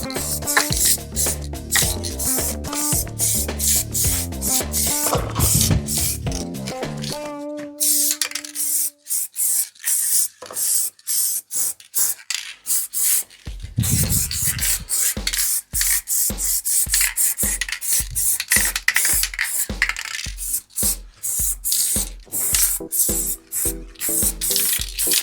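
Aerosol spray paint hissing onto Honda NTV650 motorcycle wheels in a garage with the door open, coming in repeated short bursts over music playing in the background.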